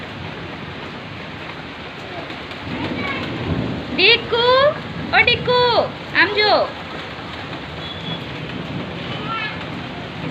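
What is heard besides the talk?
heavy rain with thunder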